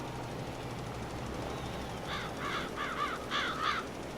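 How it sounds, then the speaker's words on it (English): Crows caw in Farming Simulator 22, several harsh calls in quick bunches during the second half over a steady low farm-game background hum. "Yeah, get out of the way, crows."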